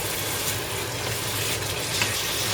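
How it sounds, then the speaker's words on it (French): Carrots fry in a pan with a steady, close sizzle and faint crackle that holds evenly throughout, with no talking. "Je vais laisser encore frire un tout petit peu juste."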